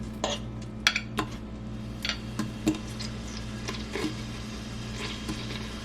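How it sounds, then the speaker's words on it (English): Shrimp seasoned with Baja citrus seasoning sizzle in a hot Instant Pot, a steady quiet frying hiss broken by scattered clinks and scrapes of a utensil stirring against the metal pot. "I can hear it, that it's starting to sizzle."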